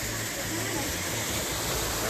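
Urlătoarea waterfall near Bușteni, Romania, a dense, steady roar of falling water filling the air at constant loudness, with faint talk underneath.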